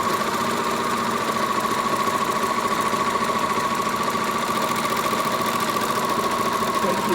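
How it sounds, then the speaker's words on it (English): A serger machine stitching along the edges of a wallet runs in a continuous, even mechanical whir with a fast rhythmic chatter, close and loud throughout with no talking. "So I'm just gonna keep serging."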